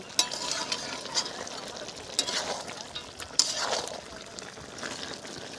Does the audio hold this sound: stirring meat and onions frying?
yes